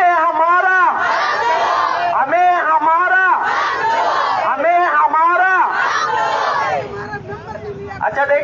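A protest crowd outside the DC Office Central in Karachi, victims of the Gujjar Nala demolitions, chants loud rhythmic slogans in unison. A leader's call and a massed response repeat in strong waves before fading into murmuring at the end.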